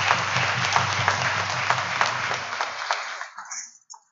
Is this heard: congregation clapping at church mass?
yes